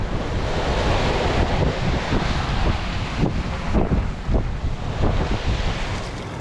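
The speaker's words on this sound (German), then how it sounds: "Wir haben ungefähr 16 bis 20 Knoten Wind." Wind and surf rush steadily around a sailboat under a fully unrolled foresail in 16 to 20 knots of wind, heading for St. Vincent in the Caribbean, with waves breaking and wind buffeting the microphone throughout.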